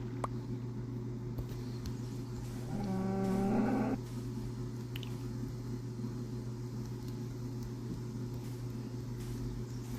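A cow moos in Minecraft beta 1.7.3. A single low, drawn-out moo of about a second rises over a constant game hum and then stops.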